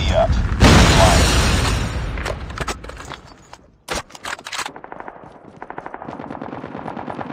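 Automatic gunfire in Call of Duty, a long loud burst of rapid shots followed by a sharp boom and further scattered rattling bursts, with game voice callouts mixed in.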